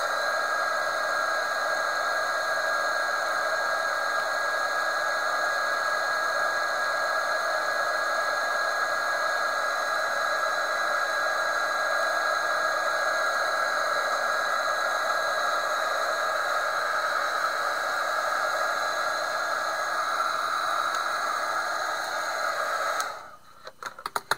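A hair dryer blows steadily on a papier-mâché balloon, a loud, even whine held for over twenty seconds before it cuts out abruptly near the end.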